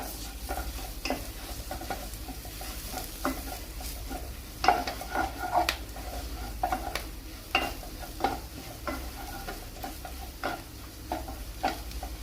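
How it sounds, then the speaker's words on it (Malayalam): Curry leaves tossed into drying masala for a Tamil Nadu style pepper chicken gravy, with a steady low sizzle in the pan broken by repeated scraping stirs of a spoon, close up and moderately quiet. "മസാല നന്നായിട്ട് വരണ്ട് വരുന്ന സമയത്ത് കറിവേപ്പില ആവശ്യത്തിന് ഇട്ട് കൊടുക്കാം."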